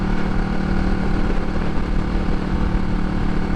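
A motorcycle engine drones with a loud, throaty exhaust rumble, steady and close, with no talking.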